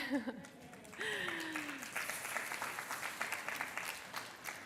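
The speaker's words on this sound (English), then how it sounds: "Yes, we can get an applause for that." A crowd bursts into sustained applause after a brief spoken moment, the clapping dense and steady until the end.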